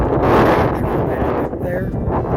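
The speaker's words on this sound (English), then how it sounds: "Wind's picking up." Strong wind gusts across a hiking trail on the Pacific Crest Trail near the Windstar Energy wind farm by Highway 58, producing a loud, continuous buffeting roar close against the microphone.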